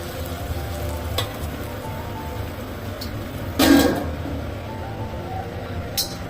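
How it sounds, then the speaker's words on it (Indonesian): A Hong Kong style dish simmering on low heat makes a soft, steady bubbling sizzle, broken by a brief louder clatter partway through and a few small clinks. "Kita didihkan dan kita masak selama 10 menit dengan api kecil."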